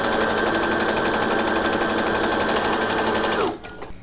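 A sewing machine runs loud and steady while stitching the long side of a fabric face mask, then stops abruptly near the end, leaving a few faint handling sounds.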